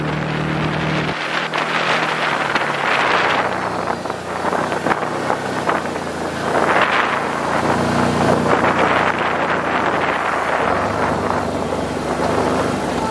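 A 2016 Can-Am Maverick XXC 1000 side-by-side is driven hard in sport mode, its engine roaring and swelling through throttle changes under heavy, constant wind buffeting on the microphone.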